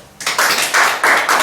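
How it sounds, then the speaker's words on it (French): A church congregation claps in praise, loud bursts of applause arriving in several surging waves that swell and fade over a moment, with no voices clearly heard. "Acclamons pour le Seigneur."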